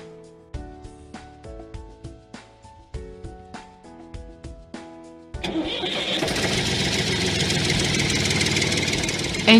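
A VST Shakti MT 270 tractor's diesel engine cranks and catches after a stretch of tonal music, then settles into a loud, steady rumbling idle that continues to the end.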